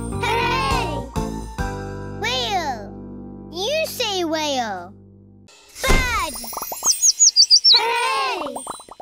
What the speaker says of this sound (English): Bird, tweet, tweet, tweet.